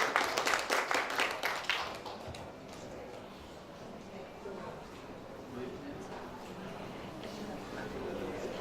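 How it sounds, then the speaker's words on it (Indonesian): An audience at a police traffic unit award ceremony breaks into a short burst of brisk clapping. It fades within a couple of seconds into a faint murmuring room with distant voices. "Kita berikan tepuk tangan yang paling meriah."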